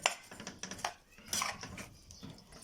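A tray of potatoes and chicken is stirred in a pan over the fire, with scattered metallic scrapes and clinks of a utensil against the pan coming in short irregular bursts.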